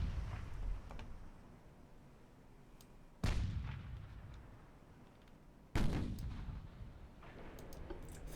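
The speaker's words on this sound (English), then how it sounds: "Fire high explosive rounds, please." Naval guns firing high explosive rounds in the Ultimate Admiral Dreadnoughts warship game, two heavy booming salvos a few seconds apart, each with a rolling decay, over a low ambient rumble.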